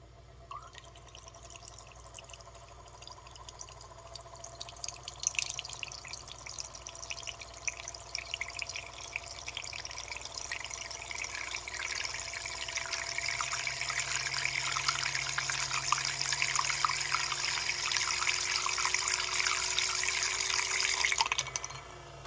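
A magnetic stir bar spinning in a cup of coffee, driven by a vibrator motor, gives a soft rattling whir that builds in loudness as the speed rises, then cuts off at the end.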